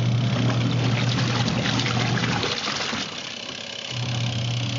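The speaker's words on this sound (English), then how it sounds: "I'll turn it on one more time to demonstrate the washing action" Compact portable Panda washing machine of 6-7 lb capacity running its wash cycle, a steady motor hum under sloshing, churning water that briefly drops off and then resumes, close and moderately loud.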